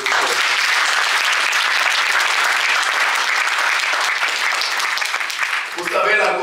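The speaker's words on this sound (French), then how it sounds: "je vous demande d'applaudir très fort" Conference audience applauding loudly, a dense, continuous roar of clapping that holds steady for several seconds before easing off as a voice comes in at the end.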